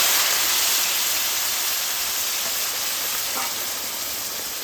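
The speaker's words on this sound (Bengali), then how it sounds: "এবার পোস্তটাকে আমি তেলের মধ্যে দিয়ে দেব।" Loud, steady broadband sizzle of poppy seed paste frying in hot oil with spices, a continuous hiss that eases slightly over time, close and without speech.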